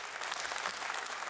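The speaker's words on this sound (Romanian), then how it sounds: "Aplauze pentru Victoria!" Audience applause for a performer named Victoria near the end of a stage show, a dense, steady wash of clapping filling the short moment without any voice over it.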